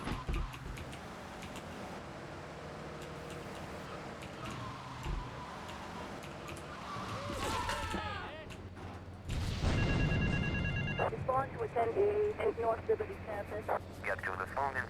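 A pay phone rings in a GTA video game, its electronic tones repeating in the later seconds over game sounds, while someone talks throughout.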